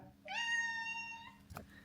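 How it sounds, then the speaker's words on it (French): A single drawn-out cat meow, close and clear, comes from a house cat arriving for leftover fish in a kitchen, followed by a brief knock or bump and low background hum. "il y a le chat qui vient le chercher"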